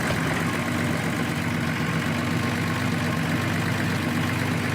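A 1978 Datsun 260Z with a 2.8 litre engine idles steadily and close by, a constant low rumble without revs or pauses.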